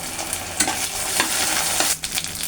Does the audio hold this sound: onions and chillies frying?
yes